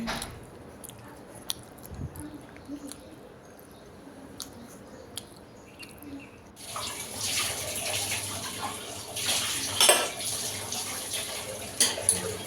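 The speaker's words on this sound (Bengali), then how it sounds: "এখন এগুলো ধুয়ে নিচ্ছি।" Dishes are washed at a kitchen sink after breakfast, with quiet clinks and handling at first, then running tap water gushing and splashing over the dishes with squishy scrubbing sounds.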